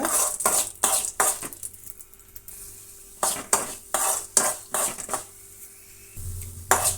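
Urad dal and chana dal fry in a pan while a spoon stirs them, with a soft sizzle under repeated bright metallic scrapes and clinks that come in bursts with quiet gaps between.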